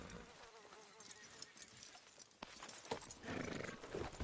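A horse in Red Dead Redemption 2 makes soft, faint hoof clops and snorting over an outdoor game ambience, getting somewhat busier toward the end.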